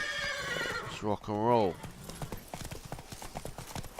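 Horse in The Witcher 3 gives a loud whinny in the middle of the clip, then hooves clip-clop steadily under game music while someone speaks briefly.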